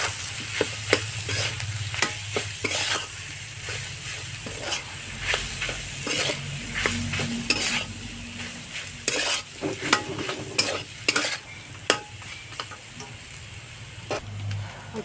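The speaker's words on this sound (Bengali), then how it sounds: "পেঁয়াজ দিয়ে কড়াইতে সাঁতলিয়ে নিব" Onion and potato sauté in a kadai, giving a steady oil sizzle under repeated scraping and stirring strokes of a spatula against the metal wok, close and moderately loud with no talking.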